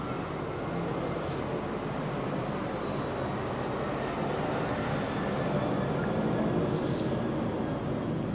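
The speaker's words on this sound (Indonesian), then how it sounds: "Tiba-tiba kok pesawatnya lewat." Airplane engine roaring steadily overhead as a loud, continuous broadband rumble with a slight swell in the second half, with no voices over it.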